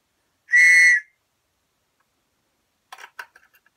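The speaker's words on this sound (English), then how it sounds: "Got a flat whistle." A flat survival whistle from a SOCP dagger kit gives one loud, shrill, half-second blast up close, followed after a pause by a few faint clicks of handling.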